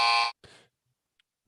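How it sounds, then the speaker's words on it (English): A game show buzzer sounds as one loud, harsh electronic blast, followed by a shorter, weaker buzz, then near silence with a faint blip before a third burst starts at the end. "I'm being told the buzzer might be a little broken, at least for us."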